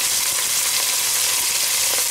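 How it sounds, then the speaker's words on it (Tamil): Onions and chillies sizzling in hot oil for a Jaffna mutton curry, a steady dense crackling hiss that stays even and close throughout, with no talk. "இந்த வெங்காயமும் மிளகாயும் போட்டு நான் எண்ணெயில் வதக்குறேன்."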